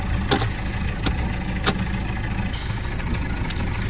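A boat engine idles steadily and refuses to shut off, a continuous low mechanical drone near the Egadi Islands, broken by a few sharp clicks or knocks.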